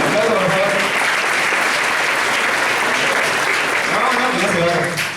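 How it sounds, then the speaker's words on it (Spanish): A seminar audience at a legal conference on the new civil and commercial code claps loudly and continuously, a thick wash of hands close by, with a few voices faintly under it before it tapers at the end. "Aplauso, por favor."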